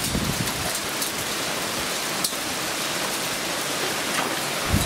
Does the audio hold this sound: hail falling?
yes